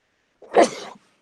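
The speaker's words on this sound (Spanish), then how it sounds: "Perdón, iba a estornudar." A single close, sudden sneeze from a lecturer during a biology talk: a short sharp burst that trails off quickly, with no speech around it.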